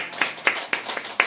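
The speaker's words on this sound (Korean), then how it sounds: "우리 하나님 앞에 영광 감사의 박수 한번 돌리겠습니다" Congregation clapping during a church worship service: five sharp, evenly spaced claps in a quick steady rhythm, close and moderately loud.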